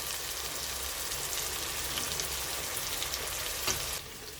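Ginger garlic paste hits a pan of frying onion and chopped tomato for green banana kofta curry, giving a steady close sizzle with faint scraping that drops off near the end.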